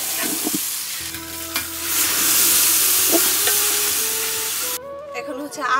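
Ginger-garlic paste sizzles and fries loudly in a village biryani pot, with steady hissing and spoon stirring throughout before a brief pause near the end.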